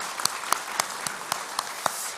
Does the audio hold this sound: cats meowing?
no